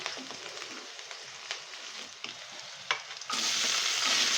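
Tomatoes hitting a hot frying pan in a home kitchen during Eid cooking, a steady close sizzle with scattered stirring scrapes, swelling into a louder, brighter hiss near the end.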